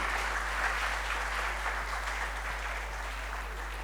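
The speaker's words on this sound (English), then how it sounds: "please a round of applause for our panelists" An audience claps steadily in a moderate, even patter, with a low electrical hum running underneath.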